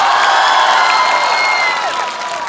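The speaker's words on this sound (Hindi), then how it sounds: "अगर बहुत आनंद आ रहा हो तो एक बार ताली बजाकर मुझे भी बता सकते हैं" A live audience at a Hindi comedy poetry show bursts into loud, dense applause with cheering and whoops, a sustained wash of clapping that fades slightly at the end.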